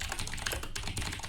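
Rapid typing on a computer keyboard, a steady run of close, dense key clicks with a short pause midway and no talking.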